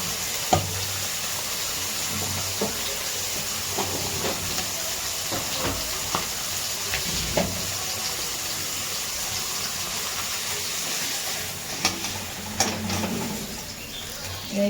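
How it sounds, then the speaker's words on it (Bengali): Hilsa fish rubbed with turmeric and salt sizzles steadily in hot oil in a pan, a continuous hiss broken by occasional sharper pops and spatters, with no talk heard. "আর ইলিশ মাছ এখন ভাজবো"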